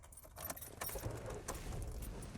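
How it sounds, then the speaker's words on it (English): Faint metallic jingle of car keys in the ignition, scattered light clinks over a low interior rumble, close by and without talk. "Twist the keys around a bit more."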